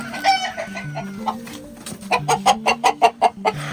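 Hens clucking close by, a quick series of short, rhythmic clucks growing steadier and louder toward the end, with lower calls murmuring underneath.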